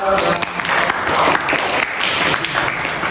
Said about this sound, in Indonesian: Bisa diterima tepuk tangan buat mereka.